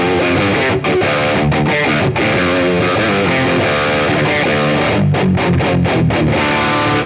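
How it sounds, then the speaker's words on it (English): Loud, heavily distorted electric guitar with thick high-gain saturation, strummed chords ringing out with a few brief breaks between phrases. "which is a distortion in front of it."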